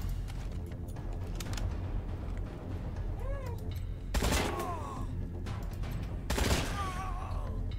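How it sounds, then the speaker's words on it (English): Machine-gun fire crackles in the video game Wasteland 3, with short rapid bursts and heavier volleys near four and six seconds, mixed with cat-like yowling cries, and no one speaking. "Uses a couple of shots, just barely not hitting the mark."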